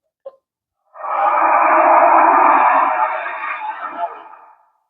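A Ghostbusters 2 sound effect from a Haslab ghost trap toy, heard as a faint click followed by a loud, sustained, distorted electronic wail with echo that slowly fades over about four seconds, with no talk.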